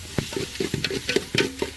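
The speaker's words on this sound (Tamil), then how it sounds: "இப்போ கறி அள்ளி போடு" Meat tipped into a hot pan of oil with onions for a Tamil home-style curry, a steady sizzle broken by repeated scraping thumps of a spoon stirring, close and continuous.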